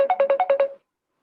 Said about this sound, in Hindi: आपके यहाँ से फोन की आवाज आ रही है।